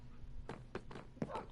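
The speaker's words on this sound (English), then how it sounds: "Hey, he's got the wolves." Minecraft wolves on PS4 (Bedrock edition) let out three short, soft barks spaced about a third of a second apart, faint over quiet game ambience.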